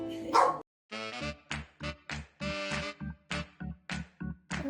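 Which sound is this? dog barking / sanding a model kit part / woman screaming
dog barking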